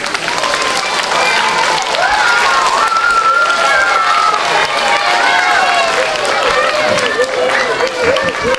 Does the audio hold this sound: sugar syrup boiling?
no